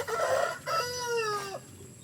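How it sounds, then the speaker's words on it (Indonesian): A laying hen clucks and calls in a farm coop in the late afternoon, a few drawn-out, rising vocal bursts close by with no talking over them. "Kalau untuk ini ayam petelur"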